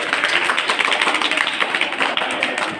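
Applause from a crowd of children and teachers at a school Gandhi Jayanti event, a dense, steady burst of clapping from many hands, loud and sustained throughout.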